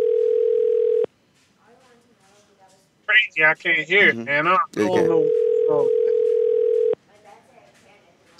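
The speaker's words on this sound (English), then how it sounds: "I hear something ringing" A steady telephone tone sounds twice on the line, loud and unbroken, first alone and then again after a stretch of talking.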